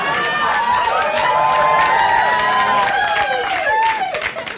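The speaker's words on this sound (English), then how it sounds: "Strangest thing to clap for" Comedy club audience during a stand-up comedy special, clapping and cheering in a dense, loud, sustained burst of applause mixed with whoops, fading slightly near the end.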